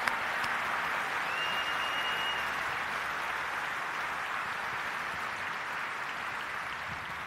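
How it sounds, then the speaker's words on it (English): Sustained applause from a large audience in a hall at a church general assembly, steady and dense for the whole stretch, with no one speaking over it. "Can we give them a round of applause?"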